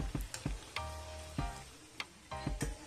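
Banana balls dropped into hot oil sizzle and crackle in a pan, with several sharp clunks and stirring knocks breaking through the steady frying hiss at close range.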